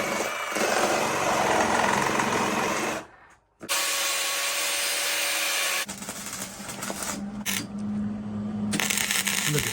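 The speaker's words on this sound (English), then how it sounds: "I'm going to use my Milwaukee Sawzall to do some" A Milwaukee Sawzall reciprocating saw cuts metal during a zero-turn lawnmower modification, a loud, steady, close buzzing drone that stops briefly, then resumes in long harsh runs with a short break near the end.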